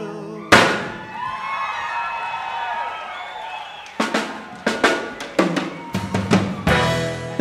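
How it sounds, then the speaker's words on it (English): Two starter cannons fire at a live concert at the Fillmore Auditorium in 1969. A loud bang opens a stretch of ringing band music, then a rapid cluster of sharp blasts and thuds follows near the end. "Two starter cannons at my left foot."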